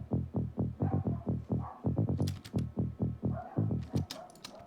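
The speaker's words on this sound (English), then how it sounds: "So I put a mono layer underneath it," A mono synth bass layer for a sound design demo pulses in a steady, rhythmic run of short, punchy notes, close and alone, with a few brighter clicky accents riding on top.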